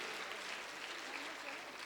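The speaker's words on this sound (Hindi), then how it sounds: "सभी के लिए उतनी ही तालियां चाहिए" Audience at a National Voters' Day event applauding, a continuous, even spread of clapping from many people, steady and fairly faint in the room.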